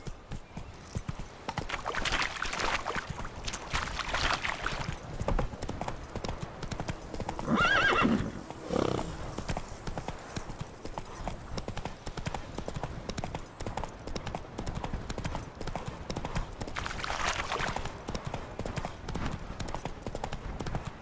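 Roach, the horse in The Witcher 3, clip-clops along in a steady hoof rhythm with a few whinnies and neighs rising over the footfalls across a long stretch, with faint voices in the background.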